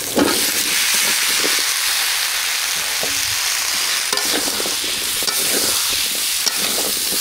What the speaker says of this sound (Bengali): শুটকিটা ভালো করে কষাই নিই। এবার মিষ্টি কুমড়া দিয়ে দিই